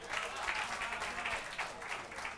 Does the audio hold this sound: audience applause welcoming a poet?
yes